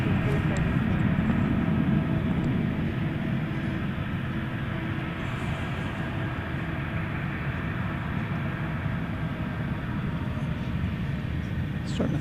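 A Qantas heavy jet airliner takes off at night from DFW Airport, its engines a steady, loud low roar that holds throughout with little change.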